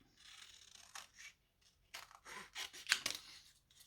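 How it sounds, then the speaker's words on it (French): Scissors cutting around recycled material for an Easter basket craft, a quiet series of short crisp snips and rustles in uneven bursts, with one sharper, brighter snip near the end. "il reste à découper"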